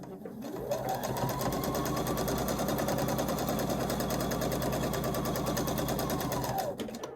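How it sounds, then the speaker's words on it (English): A sewing machine sews along a quilt seam, spinning up quickly and running in one long, even burst with a fast rhythmic needle chatter, then winding down near the end, close and loud. "sew the length of that seam"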